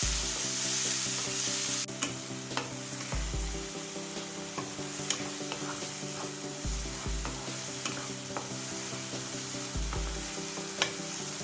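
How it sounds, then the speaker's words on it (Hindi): Cumin seeds and finely chopped onions fry in a pan with a steady close sizzle, while a spoon scrapes and stirs in a slow repeated rhythm throughout. "ये जीरा डालूंगी और ये बारीक कटे हुए प्याज। अब इनको ब्राउन होने तक भूनेंगे।"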